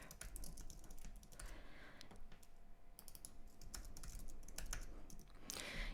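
Fingers type on a computer keyboard nearby, a quick irregular run of soft clicks and taps that continues for several seconds over a quiet room, with no one speaking.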